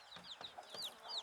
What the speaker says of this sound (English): you can see a couple of our chickens are wandering over on the neighbor's septic field eating bugs